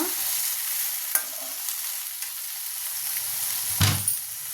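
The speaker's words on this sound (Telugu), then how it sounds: "ఇప్పుడు అదే నూనెలో కట్ చేసి పెట్టుకున్న టమాటా వేద్దాం టమాటాలు మంచిగా ఫ్రై అవ్వాలి" Chopped tomatoes fry in hot oil in a pan, giving a steady, close sizzle with a few stirring scrapes and a brief louder clatter near the end. There is no talking.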